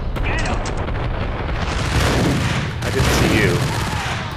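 Rapid, loud gunfire bursts from an Ingram submachine gun in a Max Payne firefight, a dense continuous barrage with someone speaking briefly over it.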